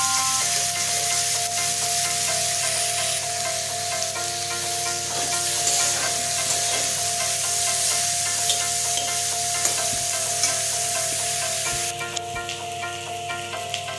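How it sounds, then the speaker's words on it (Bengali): Brinjal slices rubbed with salt, turmeric and a little sugar fry in hot oil in a wok, giving a steady loud sizzle with occasional stirring scrapes throughout, no talking. "তো বেগুনটাকে লাল লাল করে ভেজে নেব।"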